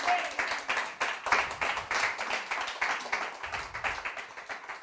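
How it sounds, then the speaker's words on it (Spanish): Congregation at a church service clapping together in a steady, dense patter of many hands, moderately loud and sustained throughout with no pause. "Le damos un aplauso al Señor."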